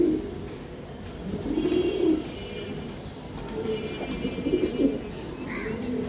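Giribaz racing pigeons coo in repeated low, throaty bursts at close range, with several rolling calls spread across the clip and light fluttering in between.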